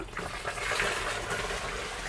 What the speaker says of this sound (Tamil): இப்போ வந்து அரிசி வந்து கொட்ட போகிறாங்க